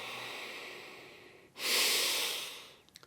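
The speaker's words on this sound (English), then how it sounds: "taking a few deep breaths just to help calm yourself" Slow, deep breaths during meditation: a long soft inhale, then a louder, rushing exhale starting about halfway through, close to the microphone with no talking.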